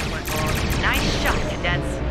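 Starship weapons in Star Trek Online let loose a quick, loud volley of layered energy blasts with sweeping tonal whooshes, while a voice is faintly present.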